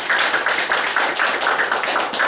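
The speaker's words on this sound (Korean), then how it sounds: "우리 박수로 서로 격려합시다" A church congregation at a Sunday worship service claps together in encouragement, a brisk, fairly loud run of rhythmic hand claps that continues steadily.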